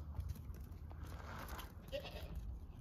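A horned mother goat, tied up while her kids nurse, bleats quietly in the distance over low rumbling background noise and occasional faint human sounds.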